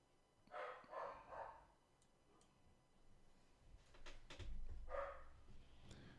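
A dog indoors barks in a few faint, muffled bursts at the start and again near the end, heard from a distance over quiet room sound.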